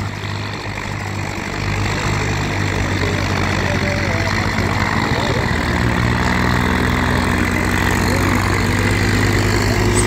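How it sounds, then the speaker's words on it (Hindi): A Sonalika DI 35 tractor engine runs steadily while clearing a track ahead of a competition trial, a loud continuous low rumble that holds constant for the whole stretch, with some voices faintly underneath. "ये इधर से ये ट्रैक्टर इस ट्रैक को क्लियर करता हुआ"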